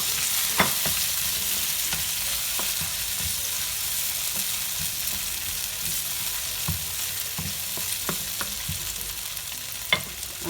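Tomatoes hit hot oil in a pan for Nigerian noodles, sizzling in a steady bright hiss with scattered spoon scrapes and taps as they are stirred.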